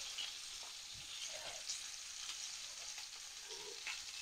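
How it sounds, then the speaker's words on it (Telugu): Crushed onion goes into hot oil and fries in a pan, a faint, even sizzle with a few soft stirring touches, with no talking. "ఈ ఉల్లిపాయ దీంట్లో వేసుకోండి"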